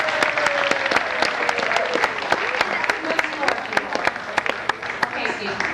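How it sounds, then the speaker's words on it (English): Audience applause for a cabaret performer named Steve, a steady, dense burst of many hands clapping that carries on throughout, with voices faintly underneath. "Applause for Steve,"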